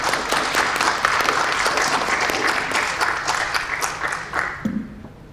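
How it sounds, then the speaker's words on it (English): A room of attendees at a pre-med mentoring breakfast gives students a dense round of applause. The steady clapping fills the whole stretch and tapers slightly at the end. "can we just give the students a round of applause?"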